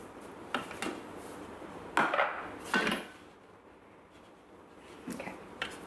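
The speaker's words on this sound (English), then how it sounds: "now it says to scrape down the bowl with the spatula" Spatula scraping down the inside of a Thermomix mixing bowl, a few soft, brief scrapes and clunks spaced apart, fairly quiet with no talking.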